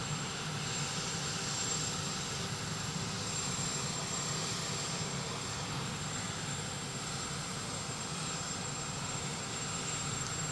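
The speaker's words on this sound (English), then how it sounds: "the 2 helicopters, they don't have their rotors going right now, and they're making that much noise." Two helicopters idle on an airport tarmac at Palm Beach International with their rotors not turning. They make a loud, steady turbine roar with a thin, high whine running through it, and no one talks over it.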